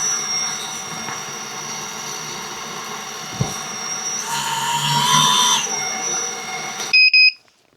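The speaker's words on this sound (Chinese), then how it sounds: "大家听一下螺桨的噪音" A small quiet drone's propellers whir in a steady, fairly close hum, swelling toward the middle before a couple of short beeps and sudden silence near the end.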